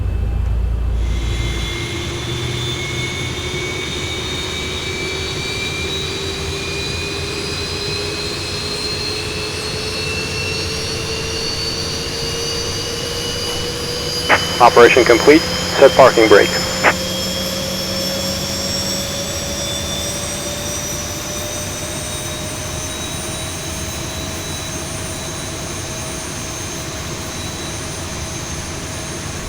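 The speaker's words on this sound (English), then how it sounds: "starter has come over, so we're going for engine start number 2" A Boeing 737-800's number 2 jet engine spools up in the X-Plane 11 flight simulator, a steady rising whine with a low roar held throughout, while a brief cockpit voice announcement breaks in midway.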